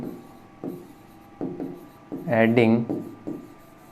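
Chalk or marker scratches against a board in short strokes while an equation is written during a class 10 maths lesson, with a teacher's voice cutting in over the writing.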